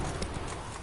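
Hooves of the horse Roach clatter in The Witcher 3, a quick burst of galloping clip-clop beats, close and fairly loud over a brief moment of noise.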